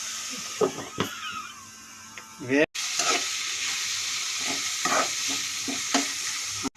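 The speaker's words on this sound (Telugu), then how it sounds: "బాగా బ్రౌన్ కలర్ వచ్చే వరకు వేగనించాలి" Curry leaves fry in hot oil with a steady, close sizzle and repeated scraping stirs of a utensil against the pan, briefly cut off midway before the hissing resumes.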